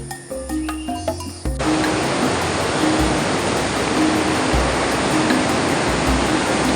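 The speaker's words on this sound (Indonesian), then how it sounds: "Jadi untuk rencana kali ini kita akan nyerok di sungai. Soalnya untuk kali ini air sungainya lagi meluap." A flooded, overflowing river rushes loudly close by, a dense, steady roar of water that cuts in abruptly after a brief quieter start with frog-like croaks and clicks.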